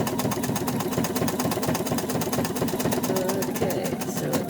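A sewing machine stitches a practice piece, its rapid, steady needle chatter running continuously and fairly loud, with a faint voice underneath partway through.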